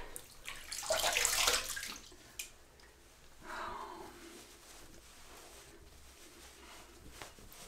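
Running water splashes as a face is rinsed after a wet shave with a RazoRock Mamba razor, a broad burst of splashing early on followed by softer intermittent water sounds, close and alone.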